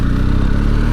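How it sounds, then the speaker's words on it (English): Exhaust of a BMW R1250GS TE Triple Black motorcycle's boxer engine, heard close and loud from the rider's position, with a rapid crackling popping pulse over a steady low engine rumble. "Oh, that popping from the exhaust."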